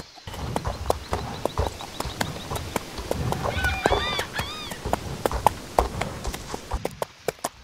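Horse hooves clip-clop steadily on a trail in the Star Stable video game, with a whinny partway through, over quiet outdoor game ambience.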